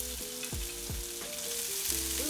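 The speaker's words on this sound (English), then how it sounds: "Ooh, listen to that sizzle." Small bay scallops sear in a hot pan, a soft, steady sizzle and crackle heard close and fairly quiet, with a few faint clinks and tones over it.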